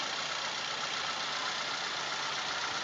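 A 2014 Toyota Avanza Type E engine idles steadily with an even, continuous hum and a bright hiss on top, close and unbroken, with no talking.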